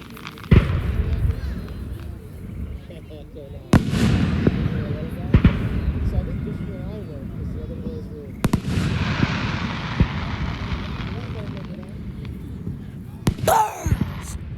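Fireworks grand finale with sharp bursts at irregular intervals over a dense rumbling wash of explosions, loud and fairly near, with people talking and cheering underneath.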